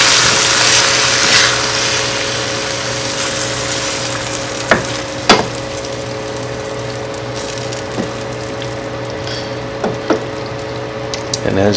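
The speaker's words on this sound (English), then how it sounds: "Now we're gonna add our diced tomatoes." Diced tomatoes cooking in a hot pan give a steady sizzle and frying hiss, with occasional sharp clicks of a utensil against the pan and a faint hum beneath.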